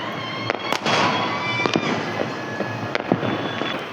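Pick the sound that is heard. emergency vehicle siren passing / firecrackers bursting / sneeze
firecrackers bursting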